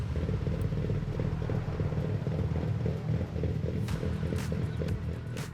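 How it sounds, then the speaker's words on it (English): A customized purple car idles in a racing video game, giving a steady low engine rumble with a continuous throbbing hum and a few faint higher clicks over it. "I do love that cars have a sort of idle noise in this game now"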